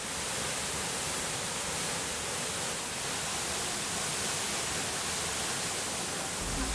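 A waterfall at Pagar Alam, pouring down like a giant shower, gives a steady, dense rush of falling water that stays loud and unchanging throughout, with no voices.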